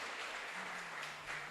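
Church congregation applauding during a sermon, a steady even wash of clapping from many hands held at a soft, distant level throughout.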